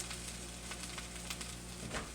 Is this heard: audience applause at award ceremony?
no